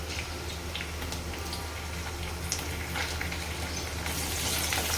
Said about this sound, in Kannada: ಸ್ವಲ್ಪ ಫ್ರೈ ಆಗಬೇಕು ಅದಕ್ಕೆ ನಾನು ಕರ್ಬೇವು ಹಾಕೊಳತ್ತೀನಿ